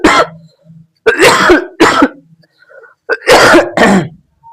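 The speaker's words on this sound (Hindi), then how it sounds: "थोड़ा खांसी आ रही है" A man coughs and clears his throat in several loud, close bursts, with short quiet gaps and a faint low hum between them.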